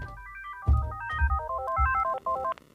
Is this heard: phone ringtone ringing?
yes